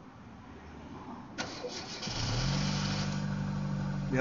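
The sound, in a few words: car engine starting via jumper cables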